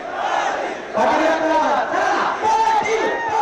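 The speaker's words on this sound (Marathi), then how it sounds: "आझाद मैदानावर उपस्थित आंदोलकांकडून जोरात घोषणाबाजी करण्यात येते" Protesters at Azad Maidan chanting slogans loudly, a dense crowd of voices rising in rhythmic surges and shouted phrases that fill the space continuously.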